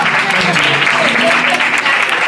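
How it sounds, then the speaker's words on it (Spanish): Audience applause at a flamenco afternoon in a restaurant, a steady dense wash of clapping that fills the whole stretch at close range, with no break in it. "¡Se fuerte aplauso para todos!"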